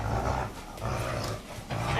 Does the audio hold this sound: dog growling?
yes